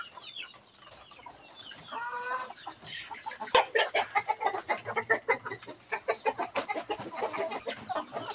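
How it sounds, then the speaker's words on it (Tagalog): A native rooster clucking nearby, starting quietly and building into a rapid, rhythmic series of loud clucks that continues to the end. "Ito po yung tandang."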